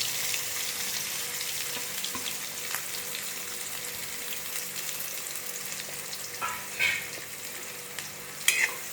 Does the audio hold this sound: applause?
no